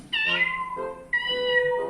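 A cat gives two clear, close meows, the first longer and falling and the second higher and drawn out, with nothing else heard.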